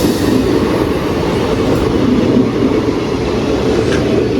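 The Mangalore Express, hauled by a WP1 locomotive, rolls into Ezhimala railway station with a loud, steady rumble of wheels and coaches close by, a continuous roar with faint squeals above it.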